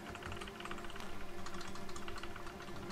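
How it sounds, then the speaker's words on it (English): Rapid, steady tapping on a computer keyboard and a game controller at once, a dense clicking patter at close range that holds for a few seconds with no talk. "I'm tapping both the controller and the keyboard right now."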